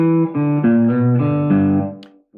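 A slide guitar vamp mixing fretted notes with sliding pitches, a short loud phrase of plucked and gliding tones ringing near and clear with no voice, ending in a brief pause.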